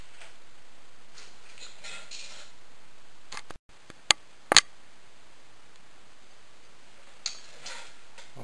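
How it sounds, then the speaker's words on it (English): A 10 mm wrench tightening a cylinder head bolt on a 1980 Honda ATC 110 engine, heard as a few sharp metallic ratchet clicks and taps in an otherwise quiet workshop, with no talking. "you'll tighten it up with a 10 millimeter bolt, 10 millimeter wrench, and you will torque it to 6 to 10 foot-pounds."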